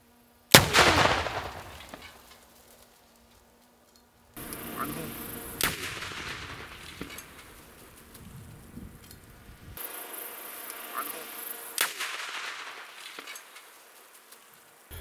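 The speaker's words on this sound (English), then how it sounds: "we just simply got the standard, you know, explosion from the emulsion charge on top and the Detcord" An emulsion charge and detcord detonate on top of a propane tank, a loud sharp blast followed by rumbling decay, then a second distant boom among outdoor insect buzzing and later sharp cracks.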